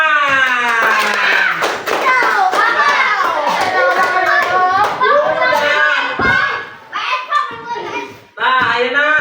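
Children in a third-grade classroom clap their hands in a quick burst, the claps mixed with lively kids' chatter and an adult speaking over the noise.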